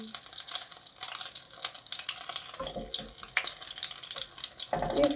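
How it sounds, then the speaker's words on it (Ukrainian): Semolina cakes with dried apricots fry in oil with a soft, uneven crackle, interrupted by clinks and handling noises near the pan, with a louder burst toward the end. "Жарились мої маннички."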